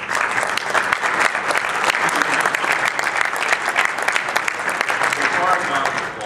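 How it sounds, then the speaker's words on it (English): An audience at a city address claps in sustained, loud, dense applause, with a close wash of many hands continuing evenly throughout. "Before I count the applause"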